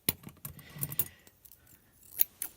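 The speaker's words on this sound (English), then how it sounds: "Thinning scissors" Metal thinning scissors pulled from a dumpster clink and rattle in a quick, irregular series of sharp, close taps, with a brief pause before two more clinks near the end and no talking.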